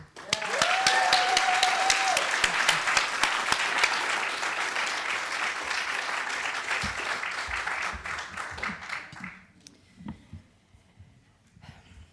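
Commencement ceremony audience giving a long round of applause, dense and loud for most of the stretch, then thinning to scattered claps and fading, with a brief voice early on.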